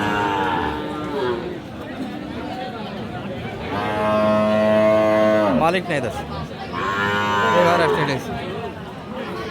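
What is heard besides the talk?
cattle mooing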